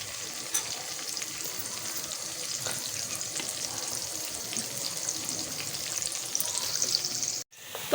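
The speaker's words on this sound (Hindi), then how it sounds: "इस प्याज को मैं करूंगी ब्राउन।" Onions browning in a pan for nihari, with a continuous close hiss of frying and the occasional scrape of a spoon stirring, steady throughout, then a brief cut near the end.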